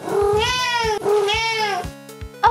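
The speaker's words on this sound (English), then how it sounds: "Oh, it's another cat." A cat meows twice in long, drawn-out, rising and falling cries, close and loud, followed by softer rhythmic thumps and a short sharp sound at the end.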